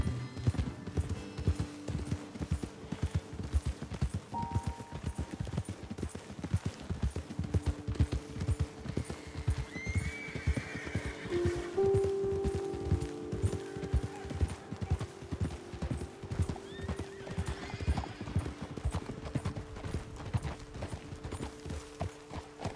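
Horse hooves clip-clopping at a steady walking rhythm in Red Dead Redemption 2, close and continuous over a long stretch, with faint tonal music and occasional soft background sounds underneath.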